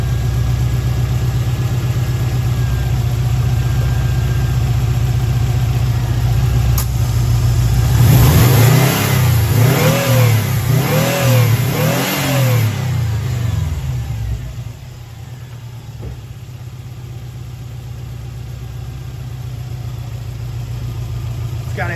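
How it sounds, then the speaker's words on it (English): A Subaru WRX with a JDM engine swap revs in a few quick pulls, the engine note rising and falling in bursts before settling back to a steady idle, loud and close. "I'll give it a couple quick pulls just so you guys can listen to it."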